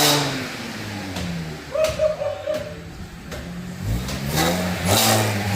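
A 2011 Audi A6 3.0 supercharged fitted with a JH Motorsports downpipe, catback and resonator-delete exhaust revs up twice, the engine climbing and falling in pitch with a steady idle between pulls, close by and fairly loud.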